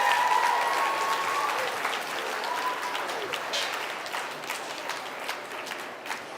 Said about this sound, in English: Give these kids a huge, huge round of applause.